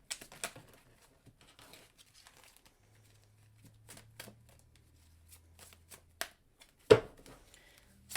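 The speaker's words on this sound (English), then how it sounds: "We're going to do 3 shuffles." Tarot cards being shuffled in several quick riffling bursts, close by, with short pauses and soft handling noises between them.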